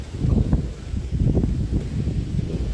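Gusty wind during a windstorm on a homestead rumbles and buffets in uneven low surges, loud and close, with brief lulls between gusts and no talking.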